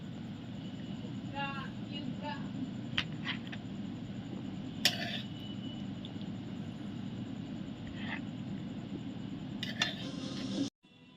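Dishes and cutlery clink softly as butter garlic chicken is served, scattered light taps and scrapes of a spoon against plates over a quiet kitchen background.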